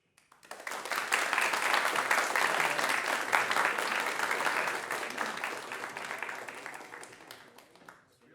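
A conference audience at BSC 2025 applauds after a talk: many hands clapping rise quickly into loud, sustained applause lasting several seconds before tapering off.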